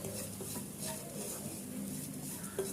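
Turmeric and chili powder heat in a pan for a curry, stirred with a few soft scraping clinks over a faint, steady sizzle, close by and without talk.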